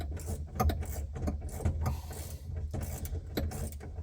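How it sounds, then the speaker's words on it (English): Mechanical creaking and ratcheting while an air conditioning unit is tightened into a 1968 Chevrolet C10 pickup, steady low rumble with intermittent clicks and squeaks, close up and continuous, no talking. "I'm tightening the unit in"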